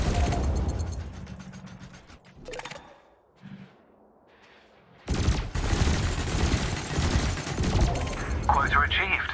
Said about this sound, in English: Your cannon will automatically reload until the ammunition supply runs out. Meanwhile, your laser will fire until the capacitor is depleted